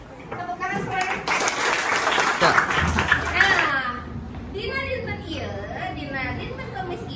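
A class of children claps together in a broad, sustained burst of applause, with young voices cheering over it before the clapping thins out near the end.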